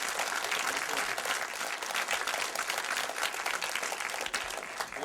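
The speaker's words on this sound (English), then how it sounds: "Once again, a thunderous applause for Carl Zittner, John Saxon." Audience at a Black Christmas screening Q&A applauds steadily for about five seconds, a dense, moderately distant clapping without speech.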